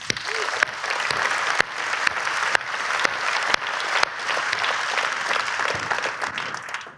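A hall full of attendees at a conference opening plenary gives sustained, even applause, with a few sharper individual claps standing out from the crowd.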